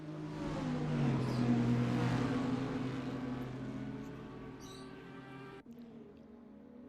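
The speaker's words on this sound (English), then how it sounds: "I think that's the sound of an Audi R8 catching these guys" Audi R8 GT4 race car engine in a racing video game at Bathurst, a steady droning engine note that rises and holds under a continuous roar, fairly distant, with no speech.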